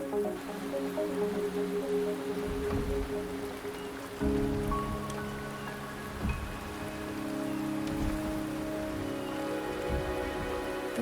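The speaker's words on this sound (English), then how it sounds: "The rain is subsiding, and the sky will soon clear." Steady rain patters on surfaces in the video game Wuthering Waves, soft and continuous with scattered drips, joined by low tonal background music that shifts partway through.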